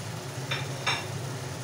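Lotke fish hits a hot pan with green chillies and sizzles, giving two short bright bursts of frying over a low steady background hum.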